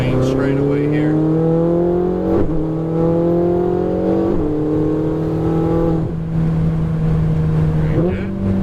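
A Ferrari 488 GTB on a race track accelerates hard down the main straight, its loud, close engine note climbing steadily in pitch and dropping back at each of several quick upshifts.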